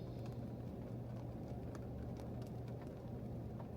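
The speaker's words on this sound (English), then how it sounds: "It's raining again" Rain falls steadily on a parked car, heard from inside the vehicle as a constant soft patter with a low hum beneath it. Scattered droplets tick against the surface and nobody speaks.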